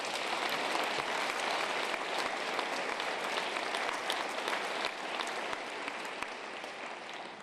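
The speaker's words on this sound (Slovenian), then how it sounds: "Dajmo še en velik aplavz za njih." Applause from a gala audience at a regional sports awards evening, after an Olympic anthem performance, a dense, steady wash of many hands clapping that carries on throughout and eases slightly toward the end.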